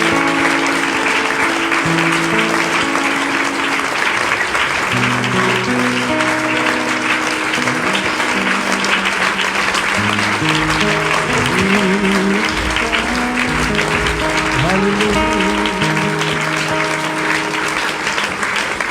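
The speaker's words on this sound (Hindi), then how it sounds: "जो न ताली बजा के प्रभु की महिमा करे" A church congregation claps steadily and loudly in praise during a Christian sermon service, a dense continuous applause with musical tones and voices mixed underneath.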